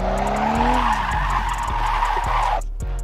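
A car drifts, its engine note rising and falling beneath loud, continuous tire squeal and skidding, close and intense, before the sound cuts off sharply near the end.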